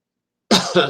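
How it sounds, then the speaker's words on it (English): A single sharp cough bursts out after a moment of silence, close and loud, with a rough second push right after. "Pardon my cough."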